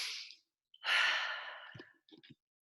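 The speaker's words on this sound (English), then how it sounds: "I'm gonna say I can take a deep breath." A single deep breath drawn in, then a long audible sigh of release trailing off, followed by a couple of faint soft mouth sounds, close and quiet with no talk.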